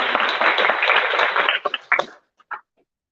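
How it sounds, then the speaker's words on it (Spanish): Applause for domestic workers at a community gathering about their bill of rights, a burst of lively clapping from a group that thins out into a few scattered claps and then stops. "quiero finalizar dándole un aplauso a las compañeras"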